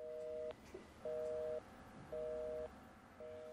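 Unanswered telephone line tone: a repeating two-pitch electronic beep in regular bursts of about half a second with gaps between, faint and clean, alone with no voices.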